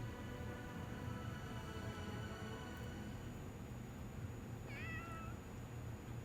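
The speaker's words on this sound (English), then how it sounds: "Hi, kitty." A cat meows once, a short wavering call in Fire Emblem: Three Houses, set in the city of Enbarr, the Imperial capital. It comes midway through over a steady low rumble of game background sound and music.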